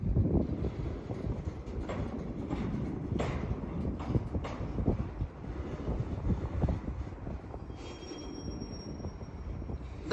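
A westbound Norfolk Southern manifest freight train rolls past a road crossing at Hoover Road, a steady close rumble of wagons with wind buffeting the microphone throughout.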